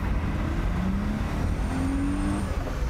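A race car accelerates hard on a track in second gear up a long straight, its engine droning steadily and loudly with rising tonal pitch sweeps, close up and with no talk.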